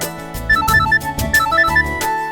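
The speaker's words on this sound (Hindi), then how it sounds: "ये फोन किसका आ गया?" A phone ringtone plays a repeating, bright electronic melody with a steady beat, clear and close, with no talking.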